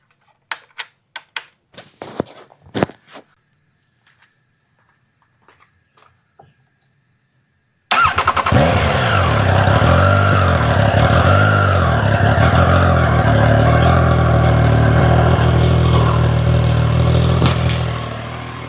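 Triumph Tiger Sport 660 with an inline-three engine: a few clicks and taps first, then the engine fires up abruptly and runs loud and close, with throttle blips and revving swells held for about ten seconds.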